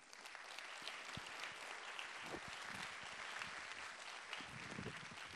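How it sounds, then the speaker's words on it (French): At a closing ceremony in a town hall setting, a crowd applauds warmly with a steady, dense wash of clapping, fairly quiet and distant, with a few louder individual claps standing out. "que vous pouvez applaudir chaleureusement"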